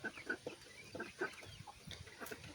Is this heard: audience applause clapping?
no